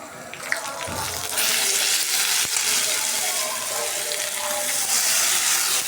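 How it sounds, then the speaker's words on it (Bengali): Bay leaf, cinnamon and cardamom fried in a pan for chickpea biryani, a loud, continuous hissing sizzle that starts just after a second in and holds steady throughout. "মশলাটা কষে নিতেছি"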